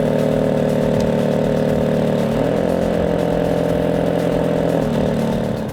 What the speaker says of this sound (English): the AMG has a snarling, snorting exhaust